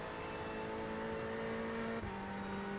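A race car engine in a racing sim video game, holding a steady high-revving drone with a sudden pitch drop around the two-second mark, as on a gear change.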